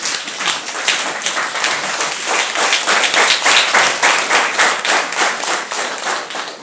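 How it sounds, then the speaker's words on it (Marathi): An audience at a meditation festival ceremony claps together in a rhythmic, steady round of hand claps, loud and close, sustained evenly for the whole stretch with no speech. "या सर्व टाळ्या"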